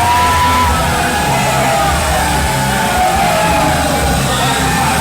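A large crowd at a 3XW wrestling event roars and chants for wrestler Handsome Scott Hansen, a dense sustained wall of voices that holds loud and unbroken throughout.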